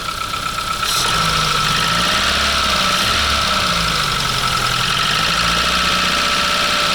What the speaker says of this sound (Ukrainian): Ні, один не робить циліндр.